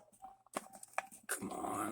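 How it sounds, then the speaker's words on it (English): Dogs growl and whimper in the background, with short low snarls and yips in bursts that come and go before louder rustling noise takes over; a person speaks briefly. "Sorry about the dogs in the background."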